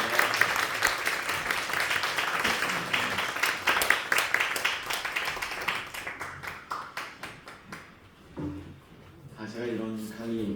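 Audience in a church seminar hall applauds to welcome a lecturer, dense clapping that thins into scattered claps before a voice begins speaking near the end.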